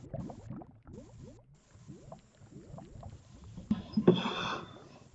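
Water in the Minecraft video game gives a run of soft bubbling and splashing blips in a steady, repeating rhythm, growing louder and busier near the end.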